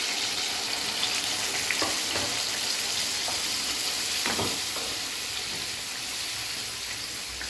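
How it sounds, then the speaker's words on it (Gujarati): Onion, tomato and chili gravy goes into a hot pan for kaju paneer curry and sizzles steadily and closely. The frying stays loud and constant, with a few brief scraping stirs. "હવે જે આપણે ડુંગળી ટમેટાં મરચાં એ બધાની ગ્રેવી કરેલી છે તે નાખીશું."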